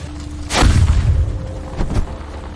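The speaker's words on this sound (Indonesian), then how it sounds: "membuat mobil Simi oleng lalu terguling dan meledak." In a film scene, a car overturns and explodes, giving a deep booming blast with a rumbling tail and a second, smaller thud shortly after, loud and close.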